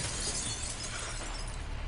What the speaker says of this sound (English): you might be able to find a way to break the glass